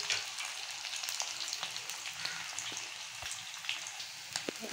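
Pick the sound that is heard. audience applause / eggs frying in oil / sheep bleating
eggs frying in oil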